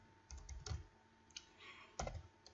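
Computer keyboard keys typed in a few short bursts while writing C++ code, crisp clicks close by with brief quiet gaps between them and no voices.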